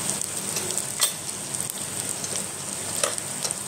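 Potato pieces cooking in oil, a steady close sizzle with scattered pops and light spatter crackles, continuous throughout.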